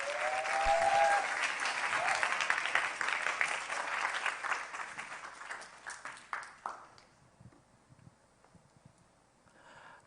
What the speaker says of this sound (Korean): 더 큰 박수 보내주십시오.